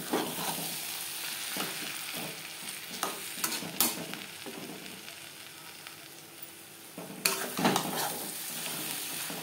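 Fish roe and fish oil with slit green chillies sizzle in a pan over high-to-medium flame, with a steady hiss broken by repeated scraping stirs, two sharp louder scrapes standing out, close up and with no talking.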